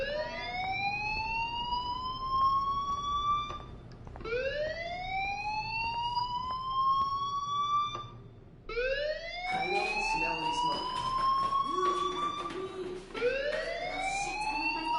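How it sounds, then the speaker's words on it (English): A fire alarm siren wails in repeated rising sweeps, loud and close, with no talking. "Hey, do you hear that fire alarm?"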